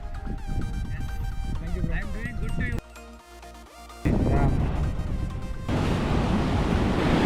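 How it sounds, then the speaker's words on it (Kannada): Rushing river water roars at the Tungabhadra Dam in Hospet in a steady, loud wash, mixed with music and voices, and swells into a broad noisy torrent near the end. "ಎಷ್ಟು ಸ್ಪೀಡ್ ಹೋಗ್ತಿದೆ ನೋಡು ನೀರು"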